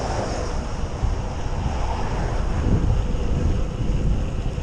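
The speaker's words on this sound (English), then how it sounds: "So at the moment it feels like a cross headwind, but I'm able to make progress." Wind roars steadily across the microphone while cycling on a flat road into a cross headwind, a constant loud rush with no voices.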